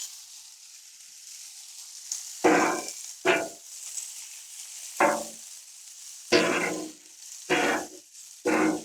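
Bacon fries on a Blackstone griddle, with a soft steady background hiss broken by several loud, close bursts of crackling sizzle in irregular bursts, and no talking.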